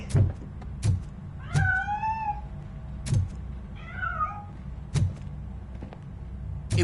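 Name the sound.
cat meowing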